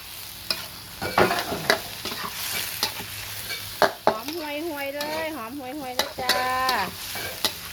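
Squid sizzles in a small pan as a spatula scrapes and stirs in quick strokes for Thai holy basil stir-fry, while a voice speaks and sings over the cooking.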